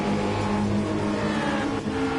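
Cars racing in a video game, including a WRX and an NSX: a loud sustained engine roar with shifting tones as the cars run together, no talk.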